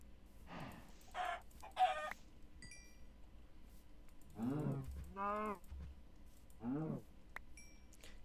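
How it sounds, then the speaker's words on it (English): Several short clucks from a chicken in Minecraft come in separate bursts spread across the stretch, fairly close and clear, with quiet tapping in between and no talk. "And on the way, I'll get this chicken."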